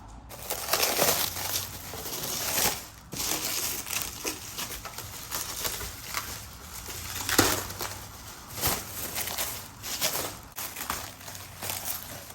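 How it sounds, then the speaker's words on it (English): Plastic and foam packaging crinkles and crunches as a 10-inch dark smoke windshield for a 2016 Harley-Davidson is unwrapped, steady close rustling with sharper crackles throughout. "So let's go ahead and unwrap this."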